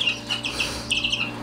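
Roundhead chicks cheeping and clucking up close in a pen, a few bright chirps in quick bursts over a low background hum, with no talk.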